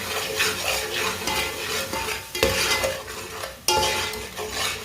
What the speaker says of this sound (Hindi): मसालों को 1 मिनट के लिए पका लेंगे अच्छी तरह मिक्स करके।